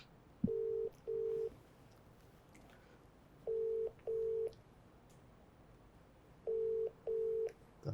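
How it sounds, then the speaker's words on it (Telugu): Telephone ringback tones sound while a call is placed, three pairs of steady beeps spaced evenly apart over a quiet line. "ఇక్కడ అభినవ్ గారికి కాల్ చేసి"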